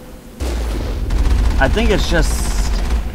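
Loud repeated cannon blasts in the video game Mass Effect rumble on beneath someone speaking, starting abruptly after a brief quiet moment.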